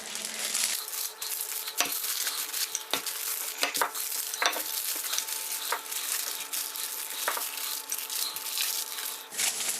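A rolling pin works homemade pie crust dough made with shortening or lard, giving a continuous rubbing, scraping texture punctuated by soft taps and knocks as the dough is rolled and handled, close and alone without talk.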